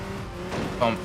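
Dodge Viper engine in the racing game Enthusia Professional Racing, a steady low drone swelling briefly near the end, running under someone talking throughout.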